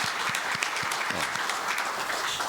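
An audience at a Won Buddhist university temple dharma service gives hearty applause to welcome new members, a dense continuous patter of many hands clapping nearby, without voices over it.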